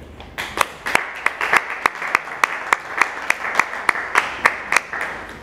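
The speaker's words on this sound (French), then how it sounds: "Je vous demande de l'applaudir." Audience applause with distinct, fairly regular claps standing out over a steady wash of clapping, moderately loud and sustained throughout.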